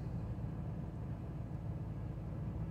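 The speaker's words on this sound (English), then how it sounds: "Last time driving out of this crazy quarter mile driveway" An old RV pulling a fifth-wheel rolls along a long quarter-mile driveway, a steady low engine rumble and road noise heard from inside the cab, even and continuous throughout.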